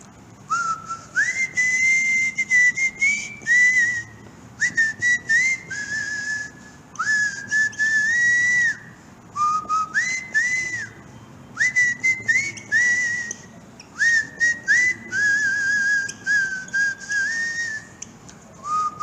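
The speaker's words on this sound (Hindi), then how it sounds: "क्या आपको लगता है इस कैलकुलेशन में मुझे सीटी नहीं बजाना चाहिए था" A man whistles a melodic tune in short repeated phrases during a physics lecture on resistance by integration, the whistling loud and close with brief pauses between phrases and no talk over it.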